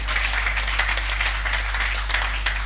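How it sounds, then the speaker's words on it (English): Audience applause at a corporate event honoring the Managing Director and CEO of Coca-Cola Nigeria, a steady wash of clapping hands held at an even level over a low constant hum. "Please give him a round of applause."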